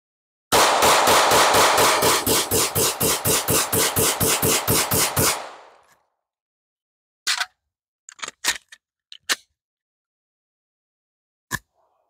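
A gun fitted with a Dove Dot sight fires a rapid string of about twenty shots in a torture test of over 1,000 rounds, loud and close, followed by a few scattered clicks and handling knocks.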